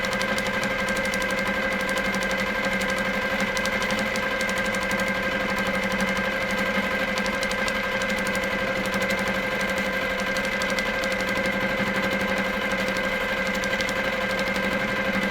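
A longarm sewing machine quilting a pattern hums steadily and loudly with a fast continuous stitching buzz and unchanging tone, heard close up with no talking.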